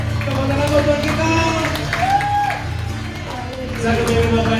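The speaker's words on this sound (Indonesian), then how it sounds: "Tepuk tangan buat kita." Church congregation clapping at a service, a steady dense applause wash with crowd murmur and a low hum throughout, fairly loud and unbroken.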